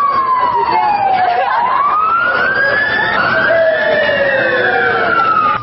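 Emergency sirens wailing during an earthquake evacuation drill in the city of Tacna, Peru, two overlapping rising and falling tones sweeping slowly up and down, loud and close, over a constant street noise background.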